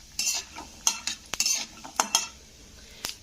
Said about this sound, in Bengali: তো বাদামটা ভাজার সময় আমি ওভেনের ফ্লেমটা কিন্তু মিডিয়ামে রেখেছি।